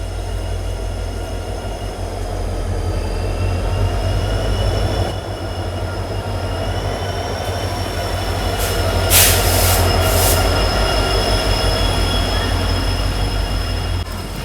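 The 15614 Lachit Express pulls into a station behind a diesel locomotive. A deep engine rumble and rolling wheel noise run throughout, with high wheel squeals and a short burst of hissing brakes near the middle and no audible voices.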